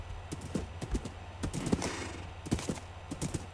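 Horse hooves clip-clop in the video game Minecraft as quick, uneven light taps over a few seconds, fairly faint, with no talk over them.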